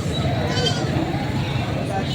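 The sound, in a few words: goats bleating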